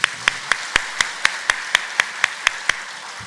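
Steady handclaps from a church congregation at a Sunday afternoon worship service, close and clear, in an even rhythm of about four claps a second that fades slightly toward the end, with no talking.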